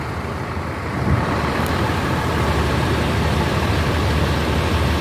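A Mercedes-Benz OH 1526 chassis bus with a Jetbus body by Adi Putro, at Kampung Rambutan terminal, gives a steady low engine rumble. The road noise stays broad and continuous and swells slightly after the first second, with no talk.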